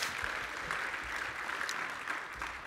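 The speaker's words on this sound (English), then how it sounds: "Can we get a round of applause for them?" Church audience applauding during a sermon, a steady moderate wash of clapping from a crowd lasting a few seconds with no speech over it.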